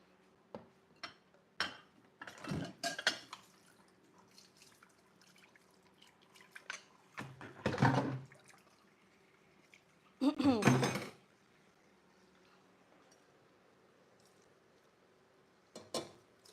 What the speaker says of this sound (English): I'll rinse this thing out a bit. Let me rinse out this stuff.